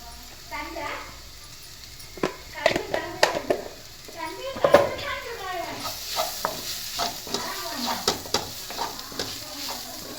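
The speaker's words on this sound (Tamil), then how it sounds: "நல்லா வதக்கி விட்டோங்க." Onion, garlic and chilli powder sautéed in a pan for egg salna: a low frying sizzle with repeated sharp ladle taps and scrapes against the pan, under someone talking throughout.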